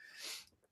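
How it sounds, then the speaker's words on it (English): A single short sneeze, soft and brief, with a faint breathy trail after it and no talk. "had a sneeze."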